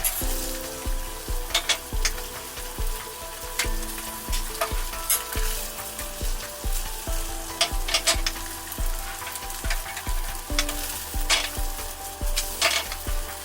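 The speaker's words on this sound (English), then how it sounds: "Sausages are cooked a little and eggs are added." Sausages and eggs fry in a pan of warmed oil for a Turkish breakfast, giving a steady close sizzle with frequent clinks and scrapes of stirring throughout, no voices.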